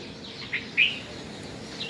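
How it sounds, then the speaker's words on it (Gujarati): A house sparrow chirps indoors at a farmhouse, a couple of brief, bright chirps over a quiet room hum, with a softer call near the end. "ચકલી એક"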